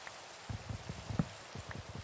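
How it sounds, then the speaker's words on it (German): Rain in Minecraft falls as a soft, irregular patter of low thumps and drops over a faint steady hiss, with no voices present. "wenn es da so regnet hier in Minecraft"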